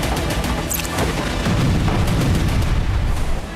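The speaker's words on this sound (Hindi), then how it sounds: "देखिए किस तरह आरपीजी शेल से इजरायली मोर्चों पर" RPG shells explode against Israeli positions in a rapid cluster of loud, sharp booms and cracks, blasts overlapping with rumbling impacts and gunfire-like bangs throughout.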